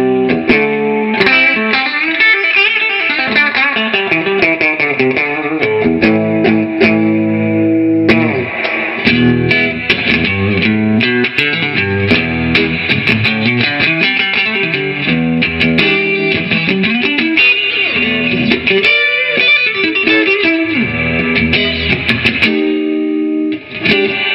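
Distorted electric guitar, a Strat with a humbucker bridge pickup through an overdriven Session Sessionette 75 amp drive channel at half distortion, playing chords and riffs loud and up close with a gritty, saturated tone.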